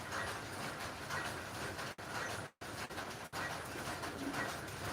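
Pigeons at a loft where red pigeons are offered for sale, a steady murmur of cooing and rustling filling the whole stretch with a couple of brief dropouts.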